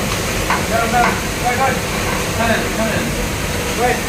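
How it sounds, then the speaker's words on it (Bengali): Spices for jhalmuri masala sizzling in very hot oil, a steady frying hiss under a man's speech, with faint stirring sounds nearby. "ওই সবগুলো মশলা এখন এটার মধ্যে ছেড়ে দিবেন ওই হাই টেম্পারেচার তেলের ভিতরে"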